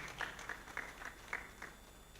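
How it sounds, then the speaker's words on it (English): Faint applause at the Africa Cassava Conference, a handful of separate claps spaced at a slow, irregular rhythm, distant and thin rather than a full ovation. "A round of applause for him, please."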